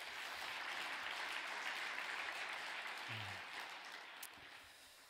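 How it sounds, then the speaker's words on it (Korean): Sustained audience applause fills a Korean lecture hall, a dense, steady wash of many hands clapping at once that fades slightly toward the end, with no talking over it. "우리 다시 한 박수 한번 보내드리겠습니다."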